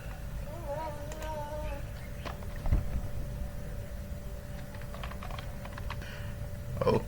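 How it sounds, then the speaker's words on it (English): Quick, steady keystrokes on a computer keyboard tap close by while designing a label in Photoshop, with a faint constant hum beneath and one louder clack near the end. "now that I'm done typing"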